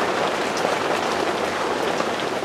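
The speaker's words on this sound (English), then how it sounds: "That rain is relentless today" Steady rain pours down outdoors by a back step, a dense, continuous hiss of drops hitting surfaces, close and unbroken, with no voices.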